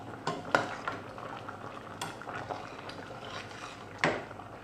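Pork bones simmering in a pot of Thai-style bamboo shoot curry, with a steady low bubbling broken by a few sharp clinks and scrapes of a utensil against the pot.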